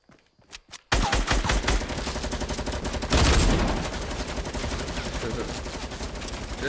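Pistol gunfire in Fortnite rattles out in a dense, rapid, loud burst after a few quieter opening shots, the stream of shots continuing steadily to the end with a heavier blast partway through.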